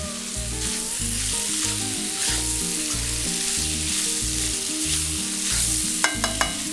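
Soya chunks roast in hot oil with curry leaves, giving a steady, dense sizzle throughout, with a rhythmic low thumping beat running underneath and a few sharp clicks near the end.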